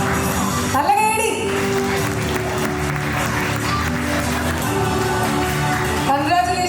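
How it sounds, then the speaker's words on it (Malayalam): Applause from the audience at a Montessori preschool annual day and graduation ceremony, a steady crowd clapping throughout, with a voice over a loudspeaker and speech mixed in at moderate loudness. "നല്ല കൈയടി."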